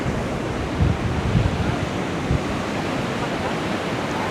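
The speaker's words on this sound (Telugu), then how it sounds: "ఇప్పుడే ఓడరేవు బీచ్కి వచ్చినాం." Sea waves roll in at Odarevu beach, a continuous wash of surf with a few soft low thuds as the water breaks nearby.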